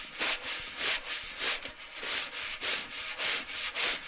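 A drum brush held in the left hand rubs and sweeps across a drum head, making close, steady swishing strokes in an even repeating rhythm with no talking.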